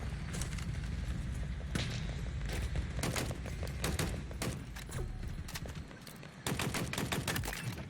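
Rapid repeated gunfire in Halo Infinite crackles in dense bursts over a constant heavy game din, with a brief lull before shooting resumes; no voices.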